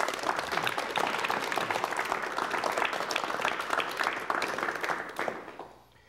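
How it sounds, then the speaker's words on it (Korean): A studio audience claps for an arriving guest on a 1980s Korean television talk show. The applause is dense and sustained for several seconds, then fades away at the end. "여러분 많은 박수로 환영해 주시면 대단히 고맙겠습니다."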